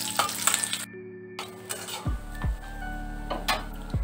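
Dried red chillies and nigella seeds frying in hot oil in a kitchen pan, a close crackling sizzle with a few stirring scrapes, interrupted by a brief silence and low electronic tones.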